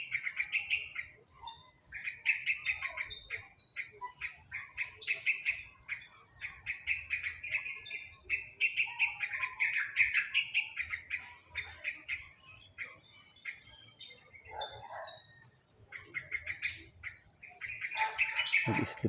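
Small baby birds in a nest give rapid, high-pitched chirps in repeated bursts, close and fairly loud, with brief pauses between the flurries and no talking.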